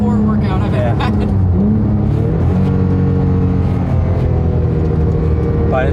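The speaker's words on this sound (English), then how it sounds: "If you like to hear the sound of your exhaust at high RPM in first and second gear" Porsche GT3 exhaust revving at high RPM on the Tail of the Dragon mountain road, a loud continuous engine roar with rising and shifting pitch throughout.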